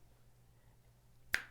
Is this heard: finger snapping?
yes